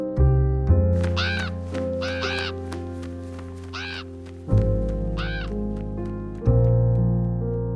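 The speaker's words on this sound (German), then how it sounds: "7 Raben sind zu fliegen gekommen." Seven ravens caw in several short, raspy bursts over sustained music, the calls coming in separate clusters across the scene.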